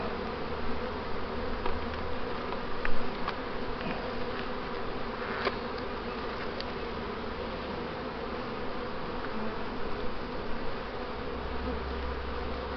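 Honey bees buzz around an open beehive during comb inspection, a close, steady insect hum lasting throughout with a few brief louder passes and no talking.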